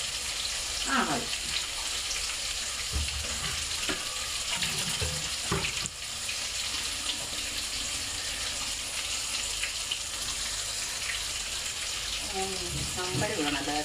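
Meat frying in a pan for a home birthday meal, a steady broadband sizzle running the whole time with faint voices and a few kitchen clinks over it.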